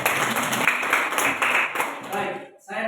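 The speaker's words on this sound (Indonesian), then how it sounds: "Tepuk tangan untuk kelompok 1." Classroom applause for a student group during a lesson, a steady patter of many hands clapping at close range for over two seconds before fading, with a voice speaking at the end.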